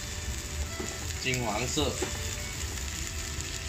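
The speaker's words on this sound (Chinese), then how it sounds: "接下来再把蒜加进去， 爆到它" Garlic sizzles steadily as it fries in hot oil until golden, a close, even crackle that runs throughout while a voice speaks briefly over it.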